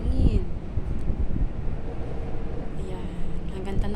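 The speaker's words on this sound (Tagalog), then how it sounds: "Super kusog ng hangin." Strong afternoon wind buffeting a microphone outdoors among buildings, a low gusting rumble that persists throughout while a person talks over it.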